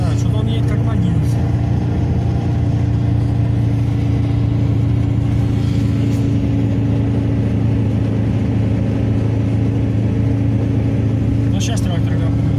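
A Zaporozhets car drives along with its engine running steadily throughout, a loud continuous low hum and drone close by, with faint occasional knocks on top.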